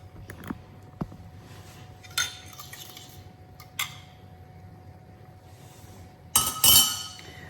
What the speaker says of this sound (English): So I'm just gonna keep stirring it and just add the eggs